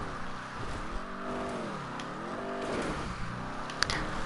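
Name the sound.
stunt car driving and drifting in GTA 5 Online video game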